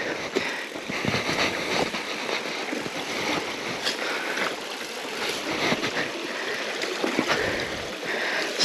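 Creek water flows and trickles during a mountain bike crossing, a moderate continuous wash broken by irregular splashes and clatters.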